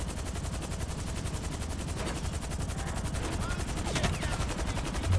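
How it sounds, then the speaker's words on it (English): Enemy gunfire in GTA 5 Online during a solo mission to grab a brown RV, heard as a dense, continuous rattle of rapid shots running steadily across the clip with a few louder bursts near the end. "they are shooting at us"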